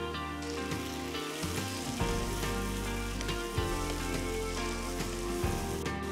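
Finely chopped tomatoes land on golden-browned onions in a hot pan for an egg curry and sizzle steadily, a close bright crackle with a few louder spits, and no one talks.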